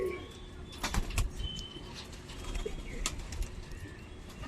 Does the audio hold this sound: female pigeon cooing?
yes